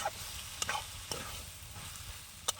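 Spiced banana flower curry being stirred in a pan, a soft steady sizzle with a few sharp spoon scrapes against the metal, quiet and close with no voices.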